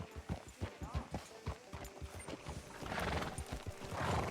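Rhythmic hoofbeats clop along at a walking pace in Red Dead Redemption 2, close and clear, with a horse snorting and some background noise swelling near the end.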